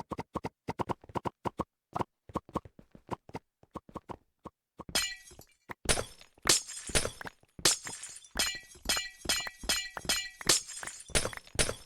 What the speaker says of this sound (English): I like the sound of breaking glass.